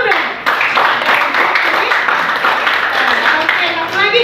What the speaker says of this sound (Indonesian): Asik, tepuk tangan dong.